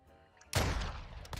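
A single loud gunshot from a sniper rifle in a first-person shooter video game, with a sharp burst followed by a decaying rumble over quiet game ambience.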